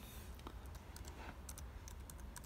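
Typing on a MacBook Pro keyboard, quick light key clicks in an irregular run, close but faint over a steady low background hum.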